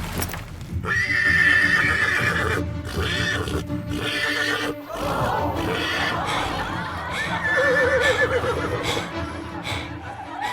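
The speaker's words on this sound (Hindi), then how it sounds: "ये जंगली घोड़ा है" A wild horse whinnies loudly several times while hooves clop and shuffle close by, with some laughter-like sounds mixed in.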